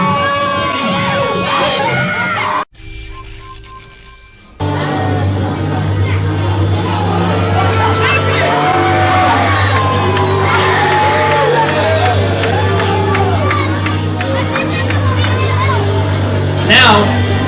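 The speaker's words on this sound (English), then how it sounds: "Why are they booing?" A wrestling crowd at a Greenwood Lake special boos, filling the space with a sustained roar of jeers and yells. The noise cuts out briefly near the start, then surges back and holds loud throughout, with scattered shouts over it.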